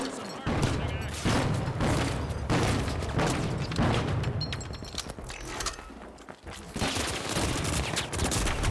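Grenade-launcher fire and explosions from a video game, with bouncing grenades going off in dense rapid bursts and booms that continue throughout under a talking voice.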